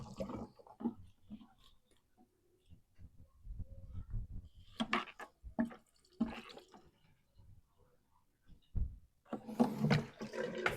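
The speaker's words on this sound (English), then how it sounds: "It's just as it's filling the bottom of the tank." Liquid trickles and splashes into the bottom of a vehicle fuel tank being refilled, coming as intermittent gurgles, drips and sloshing bursts, fairly faint and close, with short gaps of quiet.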